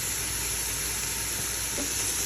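Carrots and onion fry in a pan while being stirred, a steady close sizzle running evenly throughout with a faint scrape near the end.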